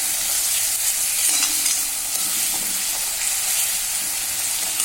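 Masala being stirred and sautéed in oil in a frying pan for an egg pepper fry, a steady close sizzle with scraping stir strokes running throughout, no talking.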